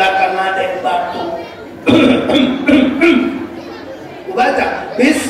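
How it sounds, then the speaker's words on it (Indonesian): During Quran recitation at prayer, people at the back cough in scattered bursts, several separate coughs arriving irregularly over a murmuring, reverberant room with a voice speaking. "Udah mulai di belakang ada yang batuk."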